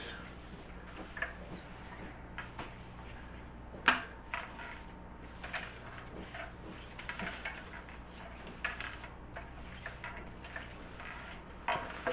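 Tarot cards shuffled by hand across a chair seat, a loose run of soft scraping rustles and sharp little clicks with one louder snap, close and fairly quiet.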